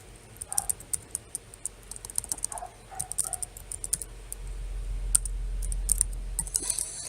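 Someone types a password on a computer keyboard, a run of light, quick, irregular key clicks close up, with a low hum rising toward the end and no speech.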